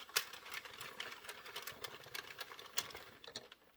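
A small Addi knitting machine with 22 needles knits the first round of a newborn hat, a close, quiet, steady mechanical clatter and rattle of needles turning, with no talking.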